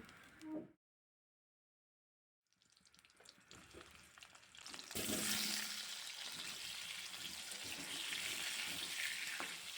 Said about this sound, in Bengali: আলুগুলোকে ভালো করে লাল লাল করে ভেজে নেব